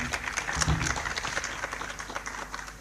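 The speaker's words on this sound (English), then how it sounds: "A better clap for her" An audience at a vocational training partners forum applauds a speaker with steady, moderately close clapping that holds through the moment.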